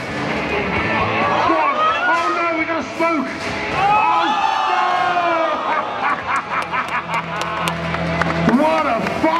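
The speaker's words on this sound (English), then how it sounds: "Big round of applause for Night Fury and Sarah" Crowd at a robot combat championship cheering and shouting, with overlapping voices and whoops rising and falling throughout, fairly close and loud; a scattered run of sharp claps or impacts near the end.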